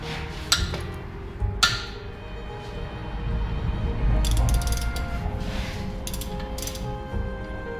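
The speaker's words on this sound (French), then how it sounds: "il faut desserrer les autres pour voir si tous les boulons de culasse ils étaient aussi serrés que le premier" Ratchet loosening the cylinder head bolts on a 1957 Peugeot 403 engine, with a few sharp metallic clicks and clinks followed by a steadier stretch of clicking, close and alone without talk.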